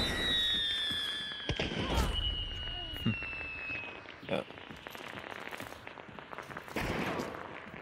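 Gunfire in a multiplayer shooter game with a Springfield Krag rifle: several sharp cracks and bangs come at irregular intervals over a continuous background hum, with players talking throughout.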